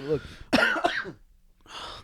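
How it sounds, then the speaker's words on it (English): A single harsh cough bursts out close by, followed by a short rough throat-clearing sound, with a brief voice before it. "Sorry, we're coming from a cough here."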